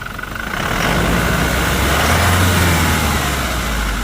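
A 2020 Toyota Innova Crysta 2.4 Z diesel engine runs steadily with the accelerator pressed, a loud, continuous rumble swelling slightly after the first half second and holding without a break.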